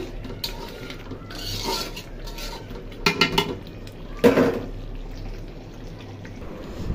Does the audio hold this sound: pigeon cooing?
no